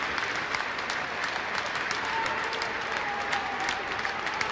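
Sustained applause from a large crowd at the state funeral for Giovanni Falcone and his escort in Palermo, steady dense clapping with no pauses as the coffins leave the church.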